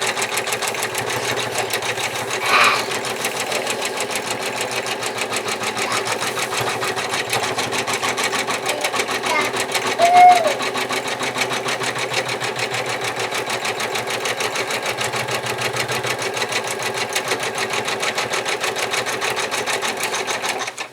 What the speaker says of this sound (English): it's going to stitch the same shape again. But this time it's going to attach our applique fabric onto our main fabric